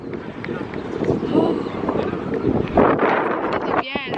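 Wind buffets the microphone in strong, uneven gusts on a hilltop in a park, with rumbling roar and voices talking intermittently over it.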